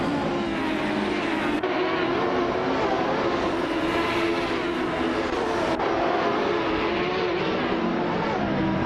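A 1995 Reynard 95-01 open-wheel race car runs at speed during a race, its engine a loud, sustained roaring drone. Two abrupt breaks in the roar suggest gear shifts or a car passing close by.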